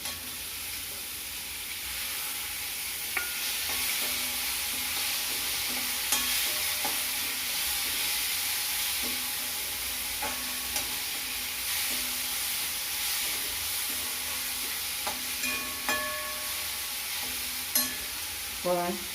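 Onions fry golden in a pan for potato curry with a steady hiss, punctuated by occasional scraping stirs of a utensil.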